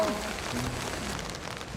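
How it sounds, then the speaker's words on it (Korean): Rain falls steadily at a hillside campsite overlooking the sea, a continuous soft patter on surfaces with a brief faint tonal sound at the start. "빗소리가 약간 ASMR처럼 들리는 음"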